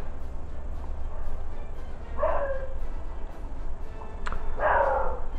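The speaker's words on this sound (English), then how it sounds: "I hear barking dogs" A dog barks twice, once in the middle and once near the end, over a steady low background hum.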